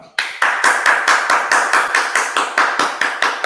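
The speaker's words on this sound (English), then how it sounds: "A big clap to Swapnil" A group claps in quick, steady rhythm, a run of evenly spaced, fairly loud hand claps close to the microphone, with no talking over it.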